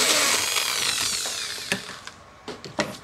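A power drill with a 4 mm bit bores into a sewing machine cover, a high whining spin with scraping grind, then a few sharp clicks and knocks as it stops.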